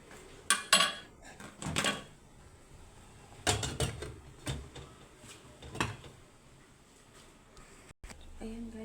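A cooking pot of malunggay and steamed tilapia clanks as metal cookware and a lid knock together in several sharp, close rattles, with a short voice near the end.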